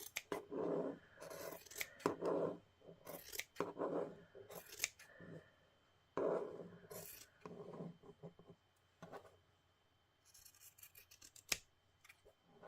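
Scissors cut out a printed fabric bird shape in repeated bursts of crisp snipping and rasping blade strokes, close and clear, with brief pauses between cuts and a final sharp snip.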